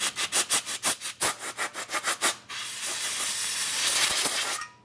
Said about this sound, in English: I'm going to use some compressed air.